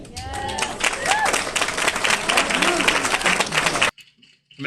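Live panel audience breaking into dense, sustained applause with some cheering and a few voices over it, then cutting off abruptly to near silence.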